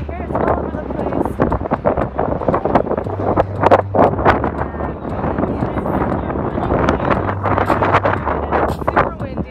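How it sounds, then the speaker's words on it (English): Strong wind near the Golden Gate Bridge in San Francisco buffets the microphone in loud continuous gusts, with someone talking intermittently beneath the roar. "And it's super windy"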